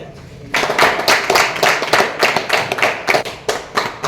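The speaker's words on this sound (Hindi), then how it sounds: "तालियां बजाते रहो भाई।" Clapping from an audience at a monthly journalists' council meeting starts suddenly after half a second of quiet, then continues loud and steady with crisp, close hand claps.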